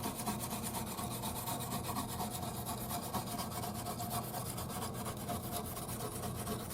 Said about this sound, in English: just kind of giving it a little scrubbing.